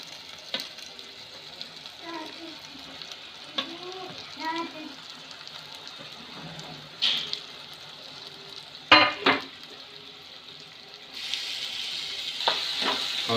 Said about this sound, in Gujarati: હવે જુઓ તમે મકાઈ આપણી જાય છે વઘારની અંદર